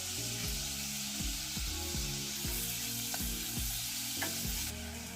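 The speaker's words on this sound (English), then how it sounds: "Then add beef and stir fry it." Beef stir-frying in sesame oil for Korean seaweed soup sizzles steadily and close up, with a regular series of scraping, knocking stirs from the utensil against the pan throughout.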